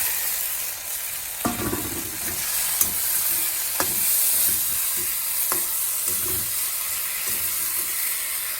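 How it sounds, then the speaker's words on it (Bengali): Potatoes sautéing in a pan with salt and turmeric give a steady, close sizzle, broken by a few sharp scrapes and clacks of stirring. "আলুগুলো দিয়ে দেবো কারণ আলুটা না কষালে তো আর জল দিতে পারবো না"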